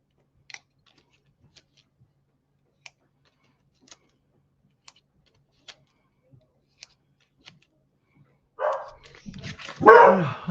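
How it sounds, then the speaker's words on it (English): Dogs barking inside a house: a quiet stretch of faint, regular ticking taps gives way to a loud, close burst of several rough barks at the end. "Oh, sorry about the dogs."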